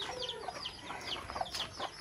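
Several chickens cluck and chatter in quick, irregular bursts close by, with no talking.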